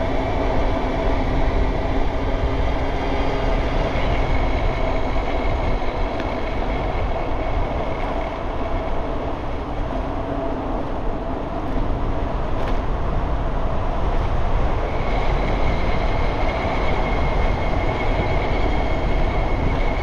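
A BBSHD mid-drive e-bike motor running on a Flipsky 75100 Pro V2 controller gives a steady whining hum with tonal bands, continuous and close over wind and road noise throughout.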